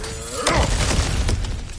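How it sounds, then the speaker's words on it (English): Breakable objects smash apart in God of War Ragnarok: one sharp, loud shattering crash with a heavy low thud, then a second smaller break and crumbling debris over a steady ambient game background. "back to smashing through things for fun and profit"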